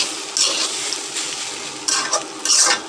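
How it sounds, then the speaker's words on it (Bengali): Loud, close sizzling of jackfruit in a wok with bursts of stirring and scraping, the hiss swelling several times as food is turned. "আমি আরও কিছুক্ষণ এভাবেই সুন্দর করে ভেজে নেব"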